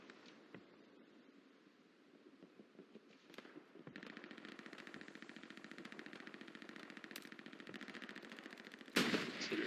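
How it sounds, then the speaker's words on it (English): Artillery and rapid gunfire in a war video game, a distant rumbling barrage that builds into a sustained rattling stream of shots, with a louder close burst near the end. "Artillery goes in, it's pummeling this house"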